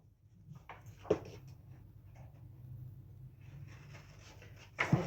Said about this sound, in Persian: صدای قیچی